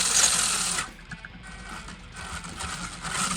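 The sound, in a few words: Subotech Brave RC car motor running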